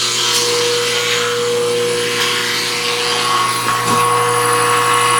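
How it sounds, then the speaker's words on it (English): A steady mechanical hum and whir from the small oil pump motor on a Sharnoa CNC knee mill, running continuously, with a faint high whine above it. "now I can hear the oil pump running."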